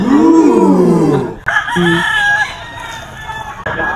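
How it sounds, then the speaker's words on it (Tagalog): Loud rooster crows ring out close by, one after another, with clucking fowl and a faint voice in the background. "Mura mga manok ni Boss Albert for today's video."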